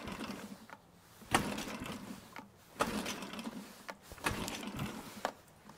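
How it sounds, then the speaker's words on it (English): Pull-start cranking of a Mercury 3.5 hp outboard engine with an empty carburetor, four separate rattling pulls of the starter cord with mechanical whirring between, close and fairly quiet, no voices. "Give it a couple more cranks, see if there's anything left."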